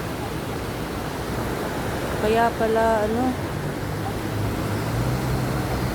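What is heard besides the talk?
river flowing water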